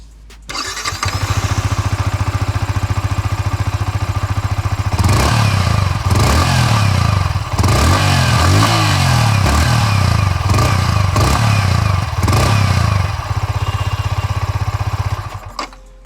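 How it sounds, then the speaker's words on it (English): A 2021 Yamaha R15 V4 motorcycle engine idles loudly nearby with a steady throbbing exhaust, then is revved several times in quick bursts before settling back to idle. "So let's hear to the exhaust note of it."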